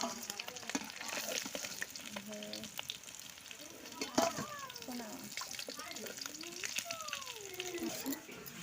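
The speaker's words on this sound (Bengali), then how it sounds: "মাছগুলো ভেজে নিচ্ছি।" Fish frying in hot oil in a kadai for a Bengali macher tel jhal, a steady close sizzle and crackle throughout, with occasional stirring clinks and a voice talking over it.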